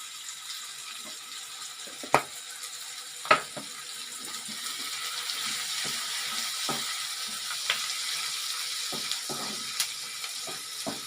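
Onions sauté in a pan for an onion chutney, giving a soft, steady sizzle at low volume with scattered sharp pops and crackles.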